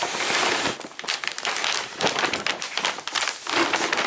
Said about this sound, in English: we put down a crap load of wrapping paper